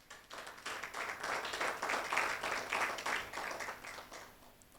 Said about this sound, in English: I think it would be very appropriate to give him a round of applause once again.